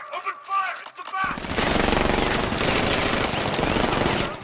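Rapid automatic gunfire in the video game Batman: Arkham Knight, a dense, loud sustained burst of shots that starts abruptly after a short stretch of game voices and other effects.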